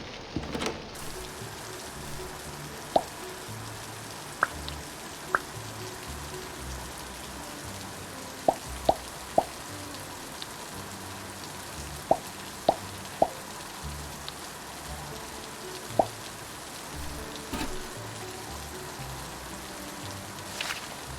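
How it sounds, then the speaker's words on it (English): Rain falls steadily in a game scene, a constant wash of patter with occasional louder drops and plops landing at scattered intervals over about twenty seconds. "It's raining."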